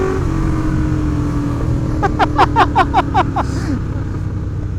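A Ducati motorcycle accelerating hard on an open road: a steady engine roar with wind rush, then a quick run of rising rev pulses through fast gear changes that fades as it pulls away.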